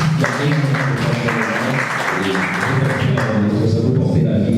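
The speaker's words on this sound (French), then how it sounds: "Je vous demande aussi d'applaudir pour ça, s'il vous plaît." Conference audience applauding at an entrepreneurship session, dense steady clapping filling the room at close range for several seconds with no talk over it.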